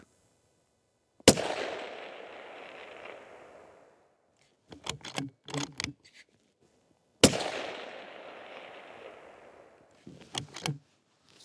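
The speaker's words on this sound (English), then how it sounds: "Let's just shoot all 5 and then we'll walk up there and see how that group looks in the wind." Two sharp rifle shots from a 22 ARC at an outdoor range, each a loud crack trailing into a long echo that rolls away across open ground, followed by softer clattering handling noises.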